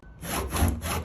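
A hand saw cutting through hard cardboard and epoxy, a short close rasping stroke with rough back-and-forth friction, heard alone.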